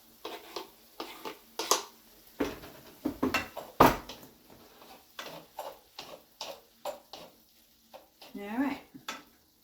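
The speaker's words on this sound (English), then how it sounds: "And we're just going to put these tomatoes in here" Tomatoes going into a pan of ground beef, green peppers and onions: a string of close clinks and scrapes of a utensil against the pan, irregular and sharp, over a faint sizzle, with brief bits of talk.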